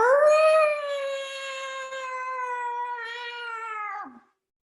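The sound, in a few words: voice imitating a yowling cat in heat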